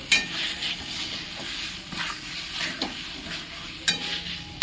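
Spice masala with soybeans frying in a pan over low heat, a soft continuous sizzle broken by regular spatula scrapes and stirs, close up, with a couple of sharper clacks and no speech.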